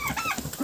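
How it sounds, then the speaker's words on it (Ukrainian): Chickens on a farm cluck and fuss in short nasal bursts, close by and faint. "Дивіться, забігли кури за мною"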